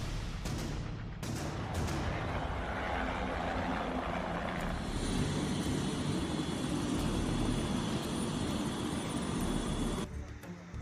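Steady loud rotor and engine roar of a rescue helicopter at a bus accident site in the Himalayan mountains, continuous and close, with a brief quieter moment at the start and fading slightly at the end.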